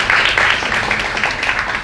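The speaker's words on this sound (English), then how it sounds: "Please give applause to Professor Akmal." Audience applause for a professor after a talk at an academic conference, brief and fairly loud, a dense patter of clapping from a seated crowd lasting under two seconds.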